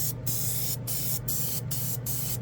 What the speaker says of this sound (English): it's like having a nice spray can.